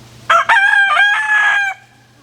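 Backyard chickens with a feather-pulling problem, one rooster letting out a loud, close crow of about a second and a half with clucking mixed in, then falling quiet.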